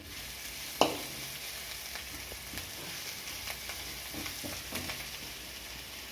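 Drumstick leaves and spices temper in hot oil in a pan for adai batter, a steady soft sizzle and crackle with one sharp pop near the start, close but fairly quiet.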